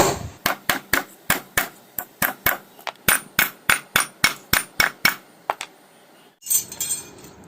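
A hammer strikes metal parts of a submersible pump motor during repair, about fifteen sharp, evenly spaced blows ringing close and loud, then a pause and a short scraping clatter.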